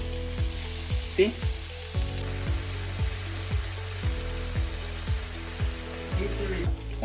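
Seasoned burger patties sizzle steadily in a hot pan right after being flipped, a continuous frying hiss running beneath background music, with a brief spoken word.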